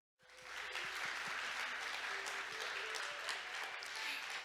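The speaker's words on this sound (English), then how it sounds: "Let's give another big hand." Sustained audience applause at a 2022 Korea Maritime Week ceremony, steady dense clapping that starts abruptly and holds evenly throughout, filling the room with no voices over it.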